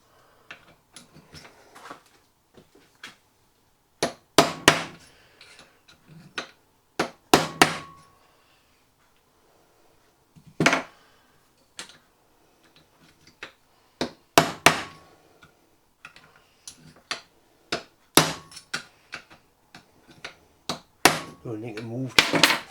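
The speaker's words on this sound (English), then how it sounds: "I'm going to use a transfer punch to put the 4 bolts in, sort of centralise it." Irregular metal-on-metal hammer strikes driving a transfer punch into a throttle body adapter for a turbo manifold in a workshop, sharp close taps in small clusters separated by quiet pauses.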